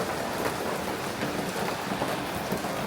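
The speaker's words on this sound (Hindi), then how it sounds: "ऐसी मस्त वाली बारिश पड़ रही है यहाँ" Heavy rain pours down in a dense, steady hiss of drops hitting surfaces, continuous and even throughout with no voices.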